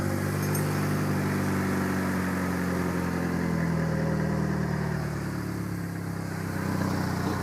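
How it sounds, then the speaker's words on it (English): A 2014 Chevy Sonic LT turbo with a ZZP stainless cat-back exhaust idles steadily, its low droning rumble carrying a faint puffing tick from a small exhaust leak, loud and close with no talk. "It has a little exhaust leak, that's what that sound is."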